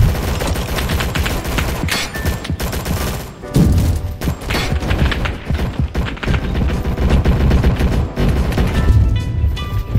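Dense, loud bursts of rapid gunfire mixed with explosions during a World War battle in the Roblox game Rolling Thunder, a continuous fusillade of overlapping shots and booms with no talk.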